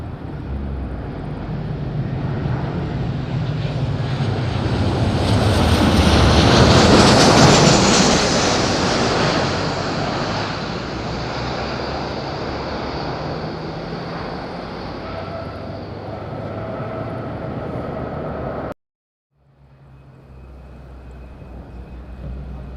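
Aircraft takeoff at Madeira Island Airport heard as a loud, broad engine roar that swells to a peak and then fades, before an abrupt cut to quieter ambience.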